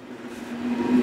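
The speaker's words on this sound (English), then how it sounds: "That's my train leaving" A train pulling out of a station, heard as a brief steady low rumble with a sustained tonal hum that grows slightly louder over one second, no voices over it.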